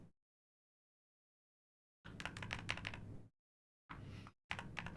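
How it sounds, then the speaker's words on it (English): Typing on a custom-built computer keyboard: two bursts of quick, crisp key clicks, close and fairly quiet, separated by silence, with no speech. "You like how the keyboard sounds?"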